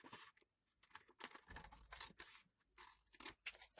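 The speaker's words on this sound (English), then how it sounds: "I'm going to cut just on the inside of that line" Scissors snip through paper for a homemade bookmark in short, quiet cuts and crisp rustles, close by, separated by brief silences.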